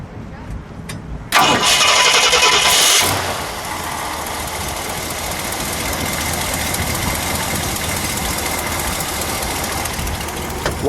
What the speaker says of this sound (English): let's fire it up, shall we? Sure. We'll let it idle and then we'll give it a little rev.